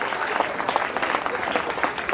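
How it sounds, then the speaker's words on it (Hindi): A short burst of audience applause at a school award ceremony, with crisp, busy clapping and small rises in loudness throughout. "तालियां इंशाल्लाह"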